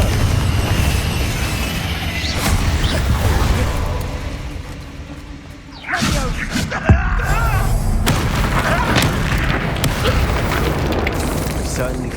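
In the Hogwarts Legacy video game, a Confringo spell explodes amid loud, dense combat noise with deep booms and rumbles, broken by a short lull and a sharp burst, with a voice speaking over the fight.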